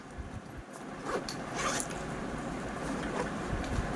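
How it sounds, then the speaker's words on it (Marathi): A zipper being drawn closed on a five-pocket fabric handbag, a close, scratchy rasping run that swells and fades over a few seconds with no talk. "आता आपण झिप क्लोज करून घेऊया"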